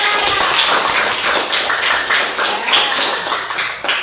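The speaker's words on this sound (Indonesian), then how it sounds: "Kasih tepuk tangan untuk kelompok 2." A classroom of students applauds a presenting group, steady loud clapping from many hands filling the room throughout, with no speech.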